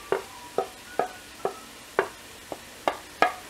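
Tomato masala with chilli, coriander and chicken masala powders frying in oil, heard as a series of sharp stirring scrapes and clacks in an uneven rhythm over a soft sizzle.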